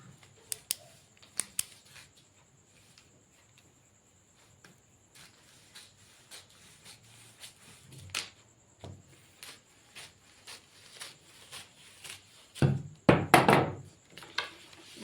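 Scissors cutting blouse fabric: quiet, sparse snips and taps spread across the stretch, building to a louder cluster of handling noise near the end.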